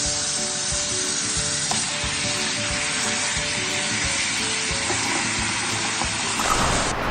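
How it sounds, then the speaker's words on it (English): Water runs steadily in a kitchen sink as pasta for homemade mac and cheese is rinsed, a continuous close hissing splash that holds at an even level throughout, with no voices. "Rinse the pasta."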